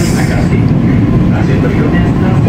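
A Chinese-built KRL commuter train runs from Jakarta Kota toward Bogor, passing Gambir station without stopping. A loud, steady rumble fills the interior of the car throughout, with a voice under it.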